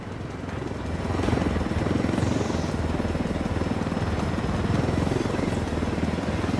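Helicopter in Ghost Recon Wildlands, a steady loud rotor drone with a dense low thrum that swells in after the first second and holds close and constant throughout, without speech.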